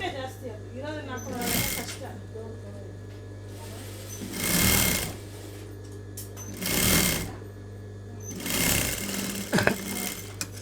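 A sewing machine stitches a folded blouse hem in short repeated bursts, with pauses between runs and a steady hum underneath.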